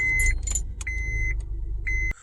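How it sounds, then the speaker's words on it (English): A 2006 Honda Accord engine cranking and catching at close range, with chimes and dashboard warning beeps sounding over the starter and a brief jangle of keys. "let's go ahead and start the car up."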